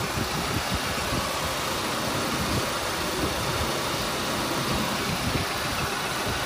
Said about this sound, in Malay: Ok, jom kita hidupkan enjin.